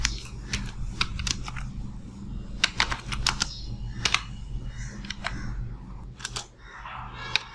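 Keys clatter on a computer keyboard while commands are typed to connect to a MySQL server on Kali Linux, giving scattered sharp taps and short bursts over a steady low hum, close and moderately quiet, with no speech.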